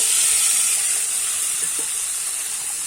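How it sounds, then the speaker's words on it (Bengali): Steady, close hiss of cut potatoes sizzling in hot oil in a kadai (wok), a continuous bright frying sound with no talk. "কাটা আলুটা কিন্তু আমি কড়াইতে দিয়ে দেব"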